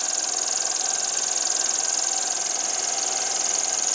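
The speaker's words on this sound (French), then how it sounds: "je vais relancer un peu le moteur" Steam engine of the steam drifter Bayflower running on its first trial, a steady continuous hiss and mechanical drone, loud and close, with no talk over it.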